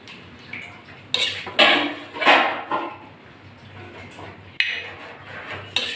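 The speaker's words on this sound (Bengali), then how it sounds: "চিকেন নুডলসগুলো আমি একটা প্লেটে তুলে নিচ্ছি" Chicken Maggi noodles are scooped from a pan onto a plate. Metal utensils scrape and clatter against the cookware in several loud, uneven bursts, separated by quieter gaps.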